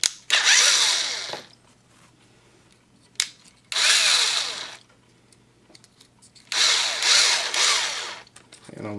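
A cordless power drill that is nearly out of charge bores into a Hot Wheels BMW E30 M3 die-cast car during a wheel swap. Three loud, whining bursts come close up, with short pauses between them.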